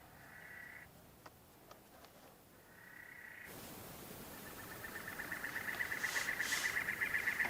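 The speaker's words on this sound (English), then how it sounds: "if you're from back east and haven't heard that bird song before, it's a cactus wren" A cactus wren sings near a house in a dry desert setting, giving repeated harsh, rapid chattering phrases that grow louder and more continuous toward the end, over faint ambient noise.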